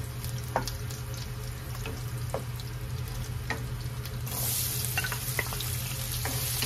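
Garlic sizzles and fries in reused fish-frying oil in a pan, a steady crackling hiss with scattered spatter pops and a brief stir partway through.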